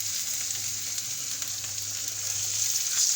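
Ground spice paste fries in a pan, giving a steady dense sizzle close up with faint stirring scrapes underneath, continuous and even throughout, without talk.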